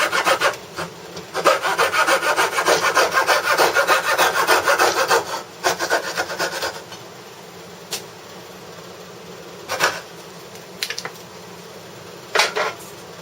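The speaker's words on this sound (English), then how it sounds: "step 2, coping saw. Same thing, trying to get as close to the line as possible without going over" A coping saw cuts wood for hand-cut dovetails, a close, steady rasping of back-and-forth strokes that pauses partway through, then returns as a few short, separated strokes.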